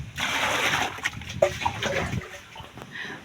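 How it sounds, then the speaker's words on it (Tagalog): Water pours and splashes into a washing machine drum at home, a fairly close, uneven rushing slosh that fades toward a quieter trickle. "Kasi nilagay ako ng tubig sa washing."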